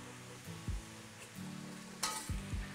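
Garlic and a large amount of onion fry softly in a pan, a quiet, steady sizzle broken by a few low knocks and a brief burst of hissing, with no talking.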